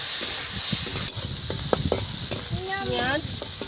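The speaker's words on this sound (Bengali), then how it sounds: "পেঁয়াজ দিয়ে দিলাম।" Onions sizzling in a pan over cumin seeds tempered in oil, a soft continuous frying hiss with occasional stirring scrapes; a brief voice-like tone rises near the end.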